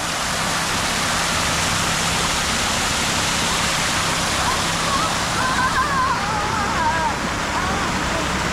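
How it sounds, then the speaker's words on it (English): Constant rushing splash of a pool waterfall at Universal's Cabana Bay Beach Resort in Orlando, close and steady, with a voice briefly talking over it. "Are you ready for a waterfall?"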